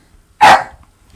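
A single sharp, loud bark from a playful pet dog close by indoors, followed by quiet.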